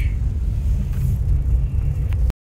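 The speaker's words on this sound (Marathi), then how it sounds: "आणि आमची आहो आता गाडी चालवतच आहेत।" A car being driven gives a steady low engine rumble and road drone, heard continuously from inside, with no talking, before it cuts off abruptly at the end.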